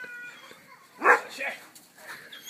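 A dog barks once or twice outdoors in snow, a short burst amid people chatting in French nearby, with faint background voices before and after.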